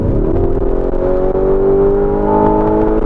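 A 2019 Lamborghini Urus engine revs from a single throttle press, a loud, close roar that swells and rises in pitch over a few seconds.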